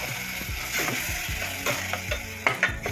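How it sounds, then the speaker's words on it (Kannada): Ground tomato fries in a pan with paste for a palak paneer gravy, sizzling steadily while a utensil scrapes and stirs in repeated strokes, close and fairly loud. "ಈಗ ಟೊಮೊಟೊ, ರುಬ್ಕೊಂಡಿರೋ ಟೊಮೊಟೊ ಹಾಕೋಣ"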